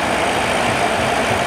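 In Microsoft Flight Simulator 2020, an aircraft engine with the throttle cut back drones in a steady, loud, even hum without talk.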